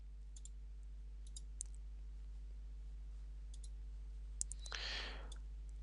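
Mouse clicks from drawing a flight-area polygon in 3DRobotics mapping software: a handful of faint, sharp clicks spread across several seconds over a low steady hum, with one brief louder hiss near the end.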